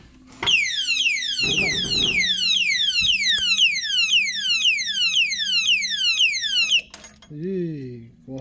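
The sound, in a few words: padlock theft alarm sounding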